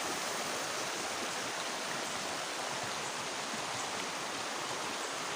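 A river flows steadily through an old, tall bamboo grove, a dense, even rushing of water heard alone with no voices.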